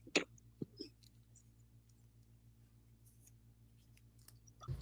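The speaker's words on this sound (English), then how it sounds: "Get my little scissors out here, and we'll do surgery then." Small scissors snip in a quiet room, a couple of sharp clicks near the start followed by faint ticks and a low hum, with another small snip at the end.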